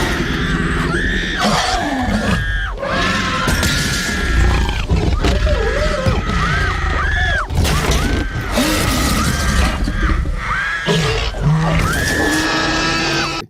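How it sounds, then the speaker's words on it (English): In a movie scene, car glass shatters as children scream, high shrill cries and crashes repeating loudly and densely throughout, dramatic and chaotic. "the glass actually popped through the car, and the kids put their hands up, and the glass broke, and the kids are screaming"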